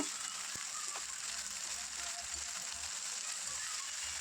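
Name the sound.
ivy gourd frying with mustard seeds and curry leaves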